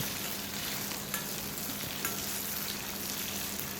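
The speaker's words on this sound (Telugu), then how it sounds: "ఇవి బాగా ఈ విధంగా ఆయిల్లో బాగా ఫ్రై చేసుకోవాలి ఇలా దగ్గరే ఉండి తిప్పుతూ వేయించుకుంటూ ఉంటే పచ్చిమిర్చి అన్నీ కూడా సమంగా వేగుతాయి" Green chillies fry in hot oil while being stirred, a steady close sizzle running throughout with a couple of brief scraping clicks from the stirring.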